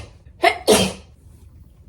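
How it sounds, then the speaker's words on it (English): A person sneezes close up: a short intake burst followed by a loud explosive sneeze, then quiet. "I'm gonna sneeze again."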